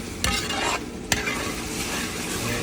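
Ginger chicken with capsicum and cornflour being stirred in a frying pan, a steady sizzle broken by a couple of sharp scrapes of the spoon against the pan, with no talking.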